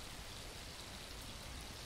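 Steady rain in the video game Blight, a dense even wash of falling water that fills the whole stretch at low volume with no voices over it.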